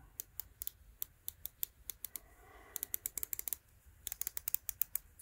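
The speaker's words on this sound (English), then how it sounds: "Really satisfying clicks, I think, but the action is really, really light" SteelDive SD1965 dive watch's 120-click unidirectional bezel being turned, giving a fast series of crisp, close, light clicks in quick bursts with brief pauses, no talking.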